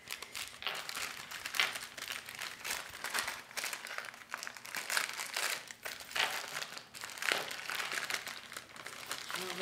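Crinkling of a small glassine bag trimmed with washi tape, a steady papery rustle and crackle running the whole time with brief sharper crunches, close up.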